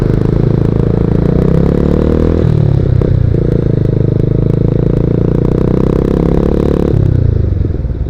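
A 150cc M-Slaz motorcycle being ridden, its engine droning steadily and loudly at close range for the whole stretch, with a brief dip in pitch around the middle as the rider shifts or eases off, then settling back into a steady run.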